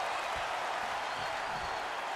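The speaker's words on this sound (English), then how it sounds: "Listen to this crowd." A wrestling arena crowd roars and applauds in the video game WWE 2K24 during a casket match, a dense, steady wash of cheering that fills the whole stretch with no voices standing out.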